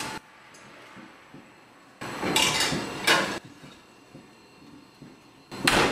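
A pan of whole tilapia goes onto the middle rack of an oven preheated to 390°F, with clattering metal and sliding scrapes in a few loud bursts between quiet gaps.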